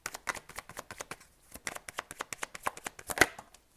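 Rapid, crisp riffle-shuffle flutters of playing cards repeat in quick bursts, close and clear, with short pauses between shuffles.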